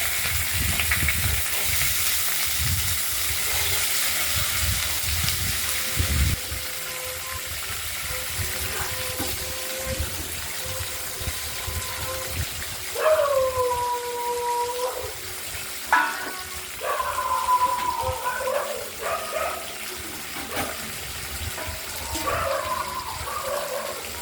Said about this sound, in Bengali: বটবটিটা তেলটা গরম হয়ে গেছে আমরা দিয়ে দেবো